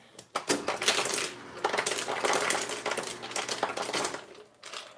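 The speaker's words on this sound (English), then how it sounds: "Just gonna get some old ice here." Ice cubes clatter and clink into a cup in quick, rattling bursts, close by, with a short pause before a final scoop.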